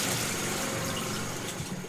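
A wave machine runs in a coastal research test tank, producing a broad, steady rush of moving water with a low mechanical rumble underneath, continuous and fairly loud throughout.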